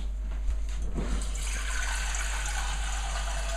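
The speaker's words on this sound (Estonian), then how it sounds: "Nii, nüüd kui vesi on siia poti sisse pandud" Tap water runs steadily into a pot being filled for boiling pelmeni dumplings, a continuous close hiss and gush that starts with a few knocks and holds for several seconds, with no voices.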